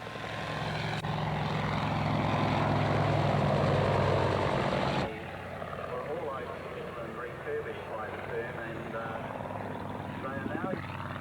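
A Sikorsky S-55 helicopter, an ex-Korean War UH-19D, runs at an airshow, its engine and rotor drone loud and steady before dropping abruptly, then continuing more faintly beneath a voice.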